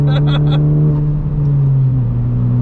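Engine of a tuned 2017 Honda Civic Si: a loud, steady, close droning hum that sags slightly in pitch toward the end, with a brief voice at the very start.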